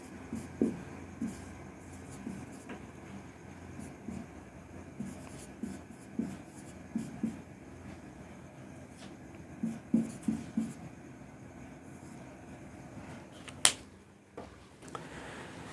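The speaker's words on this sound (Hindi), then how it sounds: "देखिए, जैसे मैं यहाँ पर एक सवाल लिख रहा हूँ" A math question is written on a board, giving faint, intermittent scratches and taps in uneven clusters over a quiet room hum, with no talking.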